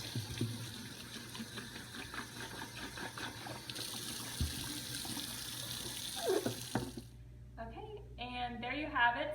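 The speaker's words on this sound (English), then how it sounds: "I do like to just rinse it off" Tap water runs and splashes while a Bissell ProHeat Revolution Pet Pro top reservoir is rinsed out in a sink, a steady close gush that shifts and cuts off, followed by a short bit of speech.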